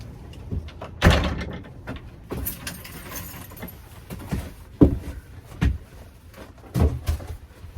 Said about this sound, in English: just had to lock the door because it's blowing like bang, bang, bang, bang, smash